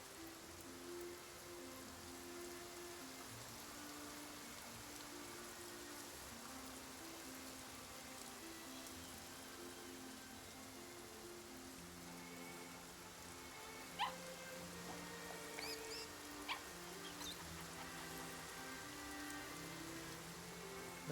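Rain falls steadily in Infinity Nikki as a soft, even hiss on surfaces, very quiet, with gentle musical tones drifting underneath and a few faint drips.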